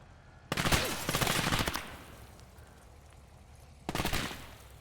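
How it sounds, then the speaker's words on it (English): Two bursts of gunfire in a WWII real-time strategy game as a window is shot out: a long, loud volley of rapid shots, then a quiet pause and a second shorter burst. "let's shoot the window out."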